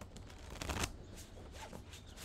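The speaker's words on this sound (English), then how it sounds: "One more. Shuffle it up." Tarot cards being shuffled in quick riffling bursts, close and fairly loud, with no talking.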